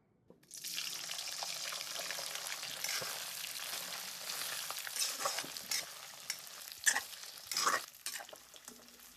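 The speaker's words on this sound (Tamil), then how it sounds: "எண்ணெய் காஞ்சிருச்சு, சிக்கன் போட்டு வதக்கிடலாம்." Chicken pieces sautéing in hot sesame oil for chicken pickle, a dense close sizzle with stirring scrapes and splashy bursts building toward the end, no voices.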